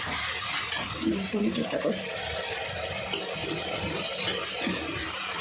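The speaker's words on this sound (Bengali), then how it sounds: "এবার পেঁয়াজটা একটু নাড়িয়ে নেব, মিশিয়ে নেব পেঁয়াজ বাটাটা" Onion paste being stirred into a curry in a pan for a prawn and vegetable dish, a steady scraping stir over a soft continuous sizzle that runs throughout.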